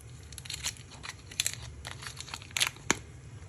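A chicken stock cube being unwrapped from its crinkly foil wrapper over a pot of soaking rice and water for Kabuli pulao, giving soft, close, irregular crinkles and tearing rustles with a few sharper crackles.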